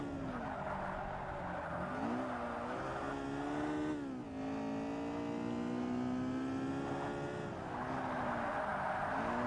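A front-wheel-drive car lapping a track in the racing video game Forza Motorsport, with a steady loud engine drone whose pitch rises and dips through gear changes and corners, plus tire squeal, continuous with no talking.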